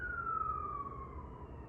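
A siren wails in one long tone that slowly slides downward in pitch, over a steady low rumble of traffic or engine noise.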